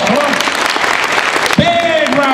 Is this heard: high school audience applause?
yes